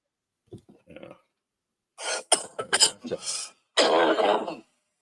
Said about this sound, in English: This is all one long continuous coughing jag.